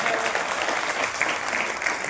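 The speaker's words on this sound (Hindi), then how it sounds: "उनके लिए ताली बजाओ" An indoor audience at a talk claps together, filling the short moment with dense, steady applause at moderate loudness.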